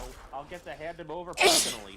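A single sharp, loud sneeze bursts out near the end, following a stretch of people talking.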